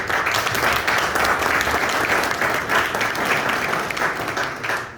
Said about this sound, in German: Ich denke, schon im Voraus möchten wir Peter mit einem Applaus ganz herzlich danken